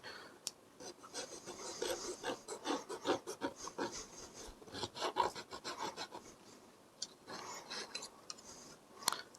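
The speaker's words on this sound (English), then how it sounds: "I will grab in my miter box and my razor saw." Small razor saw cutting a scale-model part in a miter box, a close, steady train of fine rasping strokes running throughout with uneven loudness and no talking.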